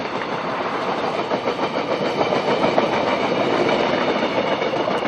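A train passes through Yongsan station in central Seoul with a steady, loud rolling rumble and rhythmic rail clatter that holds throughout, with no voices.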